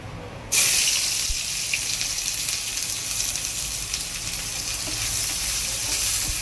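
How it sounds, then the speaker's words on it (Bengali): Chopped onions frying in oil with black cumin seeds, a loud continuous sizzle and crackle after a sudden start, steady throughout with occasional soft clinks of stirring and no talking. "পেঁয়াজটা একটু লাল লাল করে ভেজে নেব"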